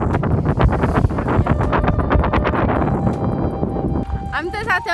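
Strong wind buffets the microphone outdoors in Palpa, Nepal, roaring and gusting steadily throughout, with a person talking under the buffeting.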